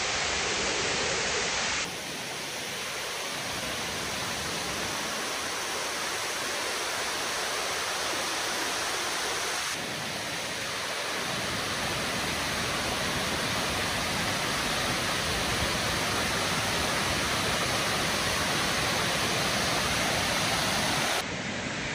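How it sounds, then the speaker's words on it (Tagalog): Yudaki Falls roars in a dense, continuous wash of falling water, loud and close, with no voices, the level shifting only slightly over about twenty seconds. "panoorin natin yung kagandahan ng Yudaki Falls"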